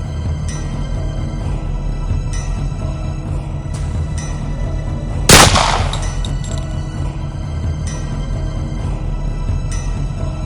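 A single sharp gunshot cracks out once midway through, loud and abrupt against a steady droning, humming background.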